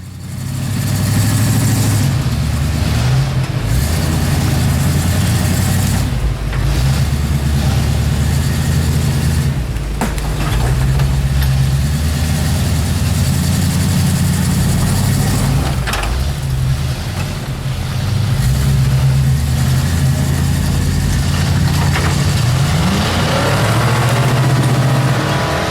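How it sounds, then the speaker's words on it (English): A wrecker truck with a new motor climbs over rocks while rock crawling, its engine rumbling low and loud throughout with rising and falling revs and occasional strain. "So we had to try and get the wrecker up on top of the rocks."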